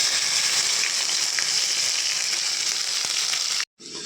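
An onion spice paste sizzles hard in hot oil, a loud continuous frying hiss with small pops that cuts off abruptly near the end.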